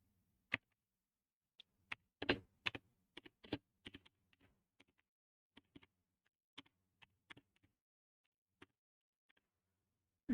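Keys on a computer keyboard are pressed in quiet, sparse clicks, including a quick burst of several strokes near the start and then scattered single taps in a silent room.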